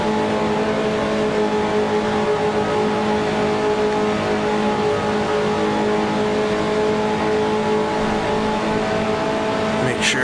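A 1955 Formula One racer in Grand Prix Legends screams steadily at high revs, a loud, sustained engine drone holding pitch at the French Grand Prix with a brief rise near the end.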